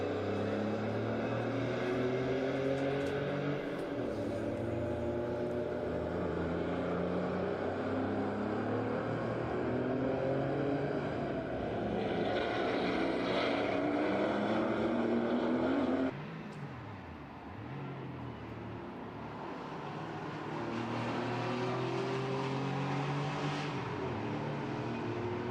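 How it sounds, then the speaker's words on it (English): Porsche 911 race cars race at the Red Bull Ring in a Porsche Sports Cup Suisse round. Loud engines drone and rise in pitch, then the note drops sharply under braking before building again. "You can hear a definitive change in engine note when the drivers go on the brakes"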